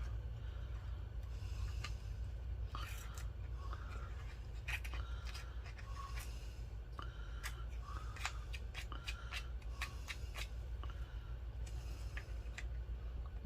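Scissors snipping while trimming a doily angel craft, faint close clicks and short cuts scattered irregularly over a quiet low hum.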